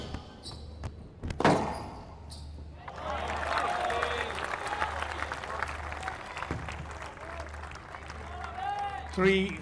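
A crowd at a squash final on a glass court at the Indian Open breaks into sustained applause and clapping after a few sharp ball and court thuds, with a commentator talking over it.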